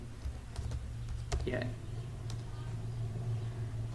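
Typing on a computer keyboard while entering a mobile number into an online job application form: a loose run of quiet clicks and key taps over a steady low hum, with one brief voice-like sound midway.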